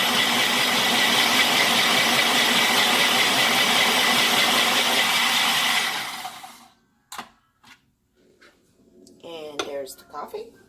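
A blender purees bulletproof coffee with a loud steady whir for about six seconds, then stops, followed by a few clinks and someone speaking.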